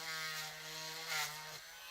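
A drill slightly widens the hole in a Mezco toy figure's ankle for a bigger screw, giving a faint, steady motor whine that cuts off near the end.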